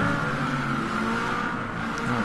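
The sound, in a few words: race car engine in video game Flatout: Ultimate Carnage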